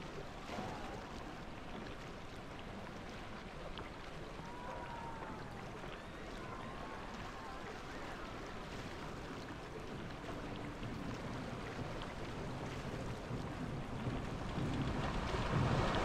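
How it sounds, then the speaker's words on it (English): Steady rushing water in the Planet Coaster video game forms a constant, even wash of noise throughout, swelling slightly toward the end. "That water sounds dang good,"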